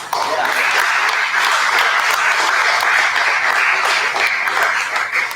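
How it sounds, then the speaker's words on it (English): A live audience at an evening talk event gives a loud, sustained round of applause, with dense clapping that holds steady for several seconds before thinning slightly at the end. "Round of applause."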